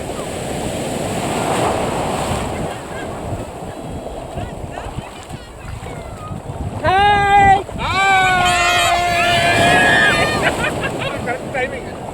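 Steady ocean surf rolls on a beach with wind noise, and partway through, voices and children's shouts rise over the washing waves.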